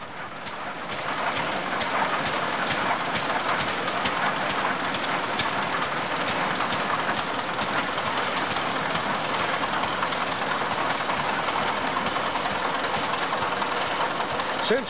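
Vintage tractor engine running at the Mehmke Tractor Museum in Montana, a large-bore engine with a steady rapid knocking beat and mechanical clatter, loud and constant, with a voice speaking over it.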